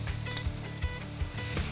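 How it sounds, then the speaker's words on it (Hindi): Water poured into a pan of frying ginger-garlic paste sets off a soft, steady sizzle with a few small bubbling pops, faint and close in a home kitchen while cooking Amritsari aloo wadiyan. "थोड़ा सा पानी भी डाल दिया जाए"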